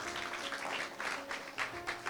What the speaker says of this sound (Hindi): उसको जोरदार तालियों के साथ धन्यवाद करें